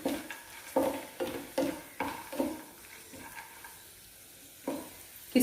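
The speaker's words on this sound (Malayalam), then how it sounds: "അതിലേക്ക് ഈ 3 സാധനങ്ങളും കൂടി ഇട്ട് നമുക്കൊന്ന് ഫ്രൈ ചെയ്തെടുക്കാം. നമുക്ക് നമ്മുടെ ഈ കിസ്മിസും കൂടി ഇട്ട്" Raisins and other ingredients frying in a pan for a banana dish, with quiet sizzling and a series of soft stirring scrapes and clinks in an irregular rhythm, no talking.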